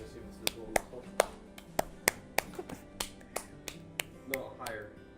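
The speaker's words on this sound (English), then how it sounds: "Clap for the camera." Hand claps for a camera at home, about fifteen sharp claps in an uneven rhythm over a few seconds, close and loud, with faint background chatter between them.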